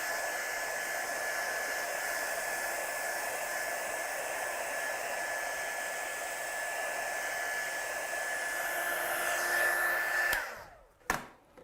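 A heat tool blows steadily to dry black stamp ink, a constant whirring hiss with a high whine that runs for about ten seconds, then cuts off, followed by a couple of faint knocks.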